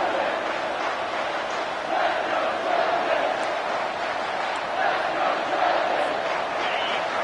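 A home crowd at a Kentucky football game roars steadily on a defensive third down, a dense sustained wall of cheering that swells slightly in waves.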